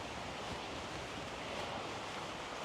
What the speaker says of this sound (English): I can hear the river down by the right of me